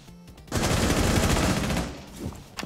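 Loud burst of gunfire in Rainbow Six Siege, a dense sustained volley of shots lasting about a second and a half before trailing off into quieter game noise and a few faint knocks.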